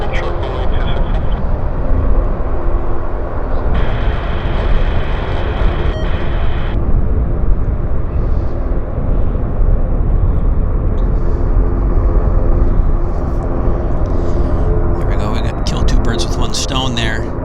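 A Boeing 737-200 airliner, a classic jet of about 110 seats, roars steadily on the runway at Vancouver Airport, a loud continuous engine rumble that lasts throughout, with a commentator talking over it.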